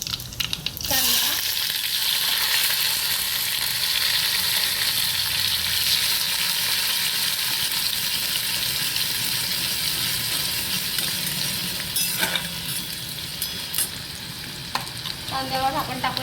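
Onions sizzling loudly in hot oil with mustard seeds and cumin, a steady broadband frying hiss throughout with occasional scrapes of stirring, no talk.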